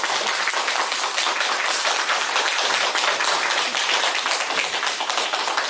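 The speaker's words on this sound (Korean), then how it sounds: "우리 한번 박수하도록 하겠습니다" A church congregation claps together during a Sunday worship service, a steady, loud, even patter of many hands sustained throughout with no talk over it.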